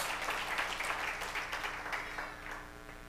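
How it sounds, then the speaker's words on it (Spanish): Congregation applause at a Spanish-language church sermon, a steady broadband wash of many hands clapping at once, fairly distant and soft, continuing without a break and fading slightly toward the end. "Si le dan un aplauso, déselo con ganas, mi hermano."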